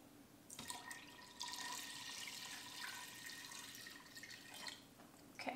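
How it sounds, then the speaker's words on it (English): Four cups of water pour steadily into an Instant Pot already holding stock for chicken noodle soup, a close, continuous splashing stream that runs for several seconds and then tapers off, with no voices. "we're gonna add 4 cups of water"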